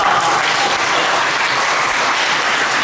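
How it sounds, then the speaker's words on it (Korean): A church congregation at a Sunday service bursts into loud, close applause, a thick wash of clapping that holds steady throughout. "박수 한번 칩시다"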